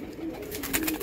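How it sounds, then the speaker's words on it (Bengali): A pair of blue chequer racing pigeons coo softly and low, close by, in a brief murmuring call over faint background noise. "এখানে এক জোড়া ব্লু চেকার পায়রা আছে।"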